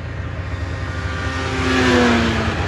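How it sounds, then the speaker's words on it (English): Snowmobile engines, vintage and classic sleds drag racing, roaring loud and close with a steady broadband rumble and rising whining engine tones that swell toward the middle. "Oh, we're drag racing."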